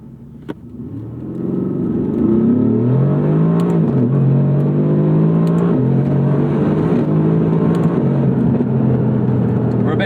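A Mercedes-AMG GT R pulls under full throttle from inside the car, its engine note rising loudly through the revs with a brief dip at a gear change, then climbing again, with no talking over it.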